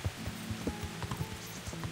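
Horse hooves clip-clopping in Kingdom Come: Deliverance, a steady rhythmic run of soft, quick hoof falls at moderate volume over low background ambience.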